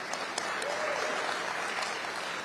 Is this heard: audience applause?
yes